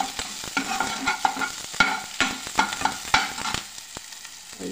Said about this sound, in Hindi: प्याज को अच्छा थोड़ा फ्राई करेंगे हम